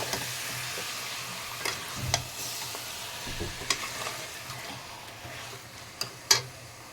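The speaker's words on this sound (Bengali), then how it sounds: "চিকেনটা ভালো করে নেড়ে নিয়েছি।" Marinated chicken stirred in a hot pan for a Bengali chicken curry, with a steady sizzle of frying and scattered scraping clicks of the spoon, fairly close and with no talk.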